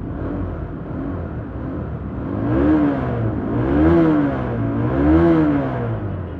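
An old, stock Honda CBR motorcycle engine idles with a low rumble, then revs up three times in even swells, each rising and falling back, close and fairly loud with no speech.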